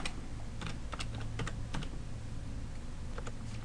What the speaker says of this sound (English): Once we've logged in the run box, we'll type